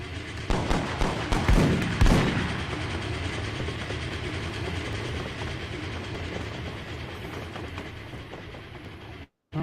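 A train runs along its track in a video game, a loud rolling rumble with rhythmic clattering bursts early on. It then settles into a steady roar before cutting out abruptly near the end.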